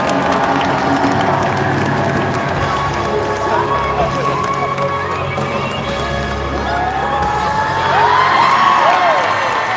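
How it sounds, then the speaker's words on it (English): A live dog show crowd claps, stomps and cheers in a steady, loud roar that holds throughout, with whoops and children's shouts rising near the end. "I need you to clap your hands, stomp your feet, cheer them on."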